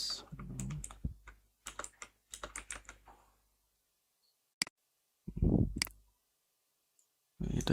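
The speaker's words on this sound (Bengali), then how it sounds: "এবার এখানে টেক্সট দেব, কিছু একটা লিখি" Quick bursts of keystrokes on a computer keyboard as text is typed into an After Effects animation project, close and crisp clicking separated by short silent pauses, with a final flurry of taps.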